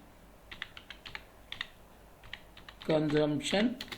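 Computer keyboard typing while entering data in Tally Prime accounting software, light rapid key clicks in short bursts, then a voice speaks briefly over the last second.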